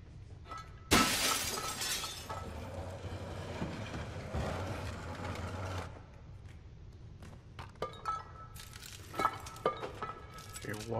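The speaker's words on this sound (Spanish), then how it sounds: "¿Viste cómo se rompen los cristales?" Glass windows shatter in Little Nightmares 2 with a loud, sudden crash and a spray of tinkling shards, followed by scattered clinks and debris. A voice speaks softly underneath.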